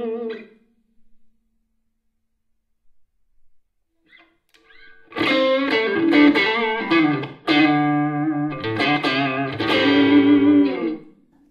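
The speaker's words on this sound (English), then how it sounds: "we have things like virtual tube screamers and whatnot" An electric guitar played through a virtual Tube Screamer overdrive on a Kemper Profiling Amp rings out as a few quiet picked notes, then loud, sustained overdriven chords and riffs close up.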